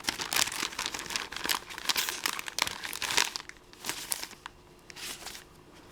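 Old paper envelopes being handled, close crisp crinkling and rustling in bursts, with a few soft tearing sounds, no speech.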